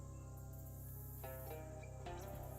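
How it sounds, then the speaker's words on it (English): A dense chorus of frogs croaks steadily in a video game bog, the calls close and overlapping, layered over sustained tonal music. "Distant frog sounds become less distant frog sounds as you find yourself very close to a lot of frogs."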